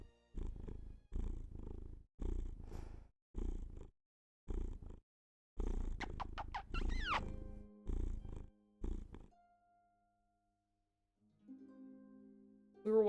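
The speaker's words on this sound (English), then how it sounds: "You want to purr into the mic?" A house cat purrs close to a microphone in rhythmic bursts, each breath cycle a soft rumbling pulse separated by brief pauses, with a few faint tonal squeaks and sounds near the end.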